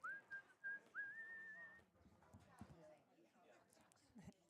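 Someone whistles two short rising-and-held tunes, bright and clear near the start of the clip, over a murmur of background crowd noise in a curling arena.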